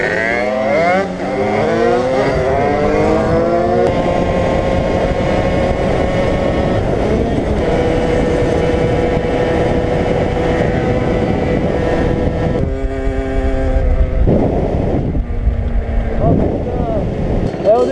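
A car engine with carburetor trouble runs loud and close, its pitch rising and falling unevenly with wind buffeting the microphone and voices talking over it.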